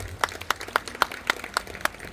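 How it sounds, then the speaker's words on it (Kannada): Applause for the young woman who hosted an evening temple consecration program, with sharp claps peaking at a steady, roughly quarter-second rhythm, close and moderately loud, and no one speaking over them. "ಒಂದು ಜೋರಾದ ಚಪ್ಪಾಳೆ ಬರಲಿ"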